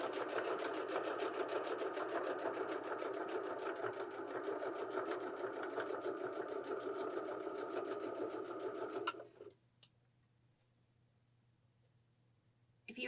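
A sewing machine runs steadily and closely for about nine seconds, stitching folded fabric over cording to make piping for a pillow, then stops abruptly and leaves near silence.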